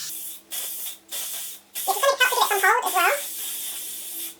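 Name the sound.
spraying Got To Be hair spray onto braids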